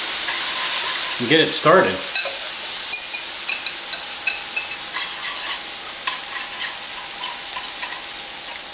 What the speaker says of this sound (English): what we're going to do is get that in that pan right now. Stir it around a little bit